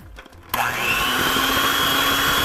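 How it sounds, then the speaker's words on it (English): A mixer whirs into a quick mix of cookie dough just after flour goes in, starting abruptly after a brief quiet moment and then holding a loud, steady motor drone to the end. "And then I'm going to add in my flour and again give it another quick mix."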